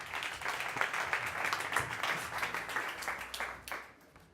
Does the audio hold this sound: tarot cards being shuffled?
no